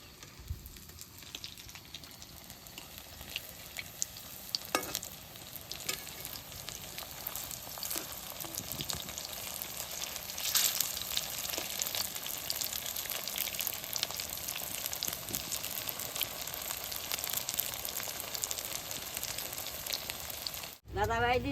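Chira (flattened rice) chops frying in hot oil give a steady, dense sizzle that runs close and continuous for the whole stretch, with a few faint knocks and no talking.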